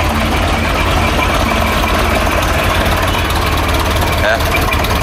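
A Massey Ferguson MF265 tractor engine idles steadily up close, a dense low rumble with a constant mechanical rattle and little change in pitch, voices talking faintly over it.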